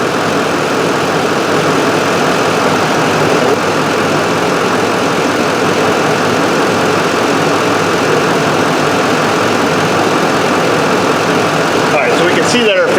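A Chevy 3500 Duramax diesel idles with its electric cooling fan running. It makes a loud, steady, close drone with a constant whir of air, and a voice talks over it.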